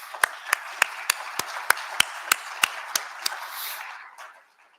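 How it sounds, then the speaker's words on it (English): Scattered applause from an audience at a live Fire Time EDx industry event in Louisville, a dozen distinct claps at a steady pace over a broad hiss of clapping that fades out near the end. "please join me in giving them a round of applause."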